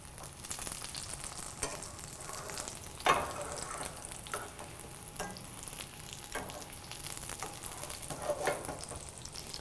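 Turkey schnitzel fries in a shallow layer of oil in a pan with a steady, dense sizzle and crackle throughout, broken by a few sharper pops and a brief clatter, close up with no talking.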